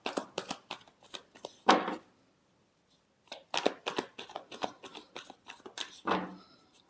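Tarot cards shuffled by hand in quick papery riffles and slaps, two bursts separated by a short pause, close and fairly quiet with no talking.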